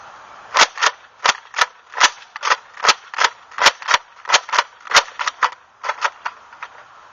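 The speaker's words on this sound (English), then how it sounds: "We're going to do slam fire testing on it with the Massacre kit and 5-kilogram spring in it." Nerf Raider blaster fitted with a Massacre kit and 5 kg spring, slam firing in a rapid series of sharp, close plastic snaps and clacks, about a dozen and a half shots with uneven spacing.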